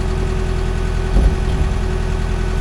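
Tractor engine running steadily while digging a foundation, a loud close diesel drone with constant low throb and a brief heavier thump partway, no talking.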